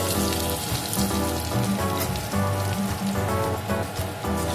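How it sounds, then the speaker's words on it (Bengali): Potatoes frying in a pan of hot oil for a Bengali colocasia and prawn curry, giving a loud, steady, dense sizzle that runs without a break and with no voices. "এই তেলের মধ্যে আমি আলুটা ভেজে নেব। আলুটা একটু লাল লাল করে ভেজে নেব।"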